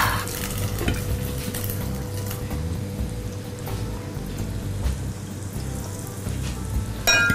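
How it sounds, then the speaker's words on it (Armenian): Pieces coated in egg and starch batter fry in a pan, a loud, close, continuous crackling sizzle with occasional utensil clinks and stirring sounds. "և տապակում։"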